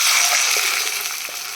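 Water poured into a hot pan of tomato rasam hisses and sizzles in a steady rush, close and fairly loud, then gradually settles.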